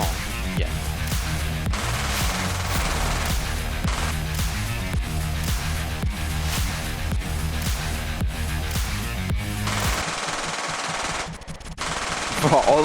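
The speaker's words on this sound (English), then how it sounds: "all I can hear is gunfire." Rapid, relentless machine gun fire in a video game, dense repeating bursts loud and close, briefly dropping away before resuming near the end.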